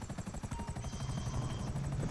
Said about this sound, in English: I still got another helicopter on the radar.